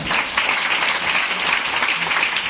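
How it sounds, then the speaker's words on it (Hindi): Hearty applause from the audience at a distributor meeting in Patna, a steady wash of clapping throughout, fairly loud and continuous, with no voices over it. "एक जोरदार ताली दोनों के लिए"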